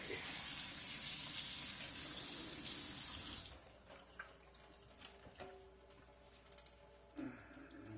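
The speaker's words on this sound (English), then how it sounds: "let me come over here and rinse the spoon out" A kitchen faucet runs steadily while a spoon is rinsed under it during soup-making, a loud constant rush of water that cuts off abruptly partway through, followed by faint clinks and handling noises.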